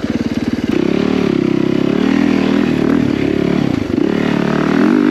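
A 450 dirt bike engine runs loud and close as the rider climbs a technical trail, a steady buzzing drone with brief throttle dips and clatter partway through.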